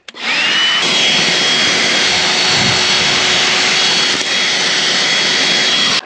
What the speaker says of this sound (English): Just scrape and vacuum, and then you can pan it later.